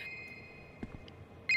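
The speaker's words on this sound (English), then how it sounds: "Answer the damn phone." A video game telephone rings with a faint electronic trill that repeats steadily, then swells loud and close at the end, with a couple of soft knocks in between.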